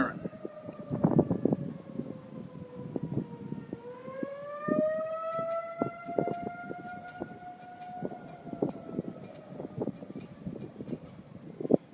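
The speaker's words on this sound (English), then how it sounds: "there goes the siren." A civil defense siren sounds during a tornado warning in Tennessee, its long wailing tone rising and holding steady while wind buffets the microphone and faint clatter runs underneath.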